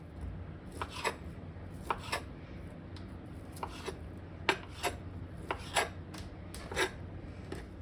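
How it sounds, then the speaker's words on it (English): A knife cutting crab pieces into smaller chunks on a board, with irregular close, quiet chops and scrapes spaced through the stretch and no talking. "I am actually going to cut these pieces into smaller pieces because I don't want it to be big, giant, huge chunks either"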